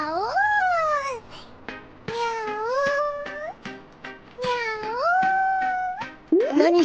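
An anime character crouches by bushes and voices a string of drawn-out, rising and falling cat meows, imitating a cat to coax one out, with short pauses between the calls.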